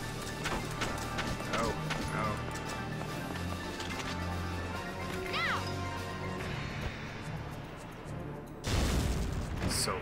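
A grenade blast in Valkyria Chronicles lands as a loud, sudden boom near the end, after a stretch of game crashes, thuds and background battle noise mixed with voices.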